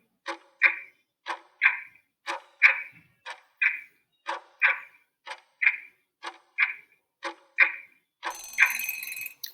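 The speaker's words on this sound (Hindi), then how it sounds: "सो जी, आपका टाइमर स्टार्ट होता है।" A quiz countdown timer ticking in a regular, loud rhythm of paired clicks about once per second, ending in a brief buzzy alarm tone, with no talking.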